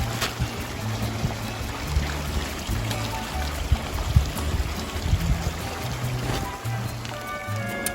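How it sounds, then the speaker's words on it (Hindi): Water is collected into a bottle from a cold mountain stream on the Gaumukh trek, with steady rushing and trickling flow close by and occasional gurgles, no voices. "तो जितनी जल्दी हो सके जहाँ पर आपको मौका मिले पानी भरना। मैं अभी यहाँ पर भरने जा रहा हूँ।"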